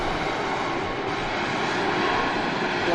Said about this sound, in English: Beautiful aircraft today.